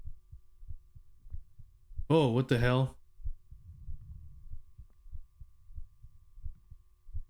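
A steady, low thumping heartbeat pulses rhythmically throughout a PSX-style video game, briefly interrupted by a man's surprised exclamation before the beat continues alone.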